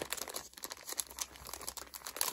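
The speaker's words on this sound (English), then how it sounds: "Sheets of stickers." Sheets of nail stickers crinkle and rustle while handled and flipped through, a close, quiet papery crackle with small crisp bursts and no talk.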